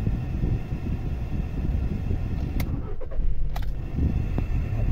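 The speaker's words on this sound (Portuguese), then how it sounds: "vou tá funcionando o carro agora" A 2018 VW Polo TSI engine runs at a steady, close idle after starting, a continuous low rumble with a brief shift in tone midway.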